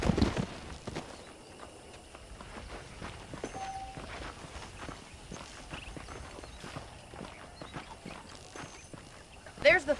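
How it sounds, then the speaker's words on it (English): Horse hooves clip-clopping steadily at a walk in the Red Dead Redemption western video game, soft and moderately close, continuing under talking characters. "The horses are saddled up over here."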